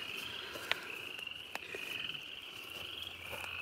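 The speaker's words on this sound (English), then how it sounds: "Frogs is chirping again." Frogs call in the woods near a creek, a steady high trilling chorus with a few sharper clicks standing out, fairly faint and distant, with no talk over it.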